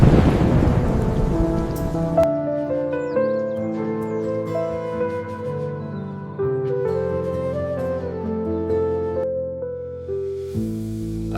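Steady rain hisses under sustained melodic music that plays throughout, with a noisier wash of rain at the start and end and no clear thunder rumble standing out.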